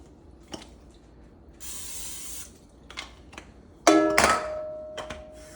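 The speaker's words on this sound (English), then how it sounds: "Spray it down just a little bit." Two short hissing bursts of aerosol cooking spray, the second longer and louder, with light clinks and kitchen clatter around them.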